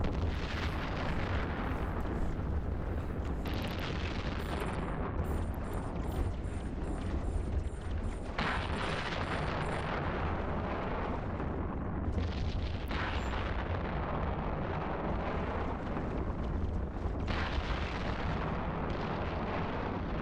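Relentless weapons fire and explosions in EVE Online, a dense, loud roar of booms and blasts that surges and shifts without letup.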